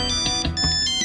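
A mobile phone ringtone plays continuously, a steady, close electronic melody with repeating bright notes and no talk over it.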